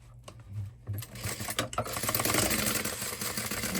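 A sewing machine back-stitches a seam on a small tote bag, its motor whirring in short bursts with brief stops before settling into a steady, close run.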